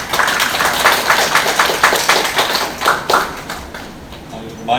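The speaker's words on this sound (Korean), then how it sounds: "우리 정태수 담임 목사님 앞으로 모실 때 박수로 우리 같이 환영하겠습니다" A church congregation claps in welcome for the pastor, a dense burst of applause that rolls on steadily, then thins and fades toward the end.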